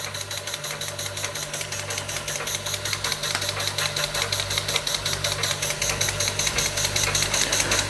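Small Czechoslovakian Ites model steam engine running steadily on gas-fired steam, giving a fast, even rhythmic chuffing beat over a low mechanical hum, close and continuous with no talking.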